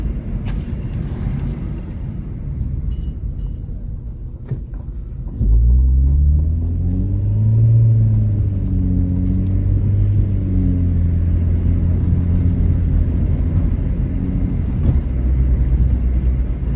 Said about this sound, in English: that is a Ferrari, huh?